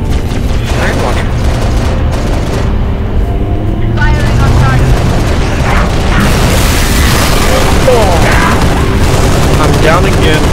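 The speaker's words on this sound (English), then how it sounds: "I'm down again because of its chain of reaction of explosions" Dense explosions and gunfire in the video game Halo: Reach rumble continuously, loud and layered, with booming blasts and rattling bursts throughout.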